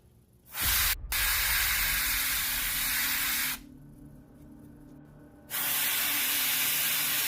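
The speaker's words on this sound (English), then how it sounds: "There's something about airbrushing the gradients that look just super sick." Airbrush spraying paint gradients onto a miniature model, with two sustained bursts of loud, close, breathy hissing separated by a quieter gap and opened by a short puff.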